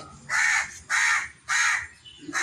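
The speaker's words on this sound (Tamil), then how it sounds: "காக்காலாம் பிடிக்கக்கூடாதுடி, மொத்தம் சுற்றி வருவான்" A crow caws three times in an even rhythm, loud and fairly close, with a fainter fourth call trailing off at the end and no speech.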